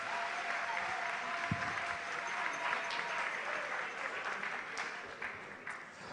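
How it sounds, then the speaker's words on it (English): A large crowd at the 2018 NSMQ school quiz contest finals claps in a steady, dense roar of applause that continues throughout, with a faint voice and a thud or two beneath it. "Please, let's applaud and let the best school win today's contest."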